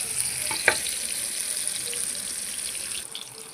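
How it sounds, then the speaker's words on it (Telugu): Tomatoes frying in oil in a pan, a steady broadband sizzle with one short clatter near the start, close and fairly loud. "టమాటాలు ఫ్రై అయ్యాక పక్కన పెట్టుకోవాలి"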